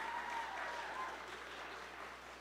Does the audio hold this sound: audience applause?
yes